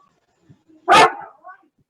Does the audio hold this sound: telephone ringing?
no